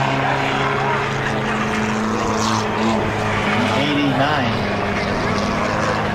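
Race cars roar down the front straightaway of the Las Vegas Motor Speedway bullring at night in a loud, continuous engine drone with a shifting whine, while a voice talks under the noise.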